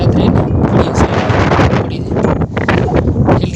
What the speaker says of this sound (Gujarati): પવન બહુ લાગે,